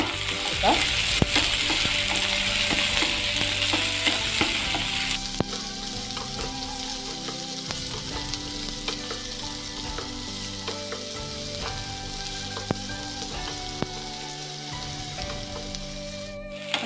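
Sliced onion rings frying in oil in a pan for a hotel-style Kerala fish curry, a steady close sizzle throughout with occasional stirring scrapes, louder during the first few seconds.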